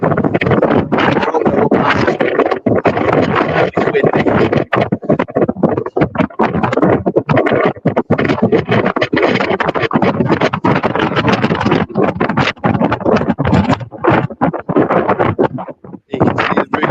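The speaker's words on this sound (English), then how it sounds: "It is very windy." Strong wind roars across the microphone near a castle watchtower in a loud, continuous rush with rough gusting bursts throughout.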